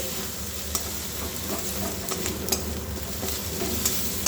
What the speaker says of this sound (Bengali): রসুনটা হয়ে গেছে একটু আদাটা দিয়ে দিলাম আর একটুখানি জিরে গুঁড়ো আর হলুদটা দিয়ে দেবো